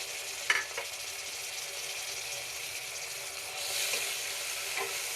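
Marinated chicken pieces and browned onions frying in oil give a constant bright hiss that swells louder near the end, with a couple of faint utensil knocks.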